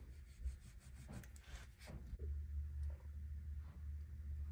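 Kaweco Sketch-Up mechanical pencil scratching across paper up close, a series of short rubbing strokes, drier and sparser at first, then a denser continuous scraping in the second half.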